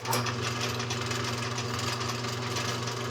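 A loud sewing machine stitching webbing straps for a 20-liter pack, running steadily with a continuous mechanical hum and rapid needle chatter at close range, with no talking.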